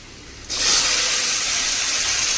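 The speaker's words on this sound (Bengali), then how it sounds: "পাঁচ ফোড়ন আর শুকনো লঙ্কাটাকে এক মিনিট মতন ভেজে নিয়ে তার মধ্যে দিয়ে দেব কেটে রাখা" Cut potatoes dropped into hot oil with panch phoron and dried chilli for Bengali aloo posto, a sudden loud hiss that bursts in after half a second of quiet and continues as a steady, close sizzle.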